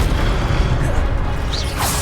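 Spells cast in the Hogwarts Legacy game, with booming magical bursts, whooshes and fiery crackle forming a dense, loud, continuous mix of combat effects.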